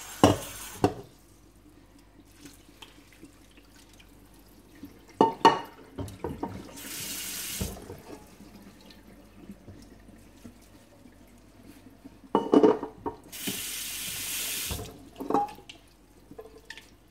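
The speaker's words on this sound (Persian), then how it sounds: "از بهترین راه های خالی کردن برنج توی آبکش، باعث میشه که برنج به هم نچسبه." Cooked rice for Persian tahdig is tipped into a colander, with two separate bursts of rushing, splashing water as the starchy liquid drains, and quieter clattering and dripping between them.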